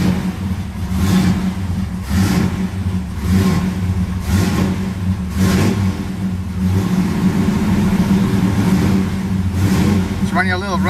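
A Chevrolet Camaro engine that has been sitting idles roughly just after starting, a low uneven rumble with periodic surges every second or so. Voices talk over it at times.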